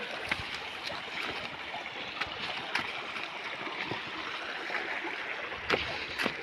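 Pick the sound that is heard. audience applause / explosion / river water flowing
river water flowing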